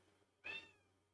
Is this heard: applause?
no